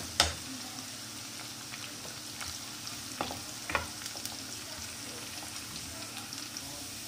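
Finely chopped onion and onion paste fry in a pan, a continuous hiss and sizzle with occasional stirring clicks and scrapes, close and steady throughout.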